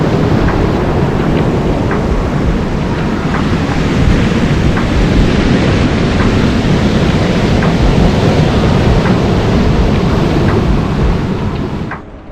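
Pacific surf breaking at French Beach on Vancouver Island, a loud, steady wash of waves close by with wind rushing across the microphone throughout, no voices.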